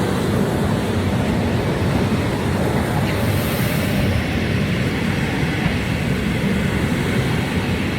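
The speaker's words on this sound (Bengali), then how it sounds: "ওই যে আসতেছে, এই হচ্ছে ট্রেন।" A train arrives at a railway station outside Moscow, making a loud, continuous broadband roar that holds steady from start to finish with no pauses.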